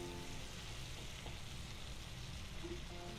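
Chopped onions fry over medium heat in leftover bacon grease, giving a steady, soft sizzle with faint crackles and no talking.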